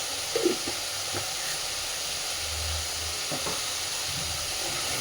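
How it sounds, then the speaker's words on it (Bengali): Soft, steady sizzle of spice paste frying in a pan, with a few faint stirring knocks and clinks over a hissing background. "এবার খুব ভালোভাবে মশলাটাকে কষে নেব।"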